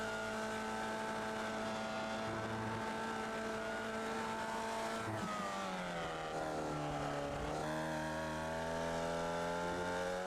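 Formula Vee race car engine on a circuit, a continuous loud droning buzz whose pitch holds, then drops as the car slows into a turn and climbs again under acceleration, close and steady with no talk.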